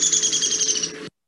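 Recorded woodpecker calls play back as a steady, bright, rapid chattering trill that holds at an even level for about a second and then cuts off abruptly.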